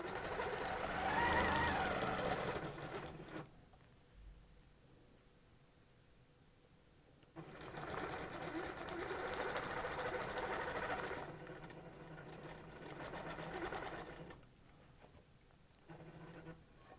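A sewing machine stitches microquilting with back stitching, running in two strong bursts separated by a quiet pause, then a softer stretch of stitching near the end.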